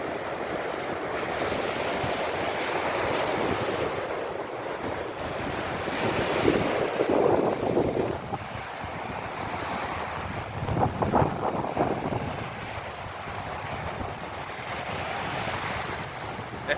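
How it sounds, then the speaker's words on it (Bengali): Waves break continuously while wind buffets the microphone, creating a steady, close, full roar with a couple of louder surges and no speech. "দেখেন কি পরিমাণ ঢেউ পাকলা ঢেউ"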